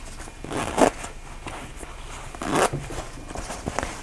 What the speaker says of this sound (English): so I'm going to go ahead and open this zipper.